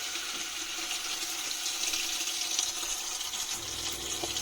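Hot water runs steadily from a tap inside a camper van, a continuous close splashing gush with no talk over it.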